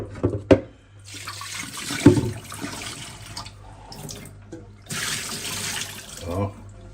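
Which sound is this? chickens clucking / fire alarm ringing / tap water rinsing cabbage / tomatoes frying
tap water rinsing cabbage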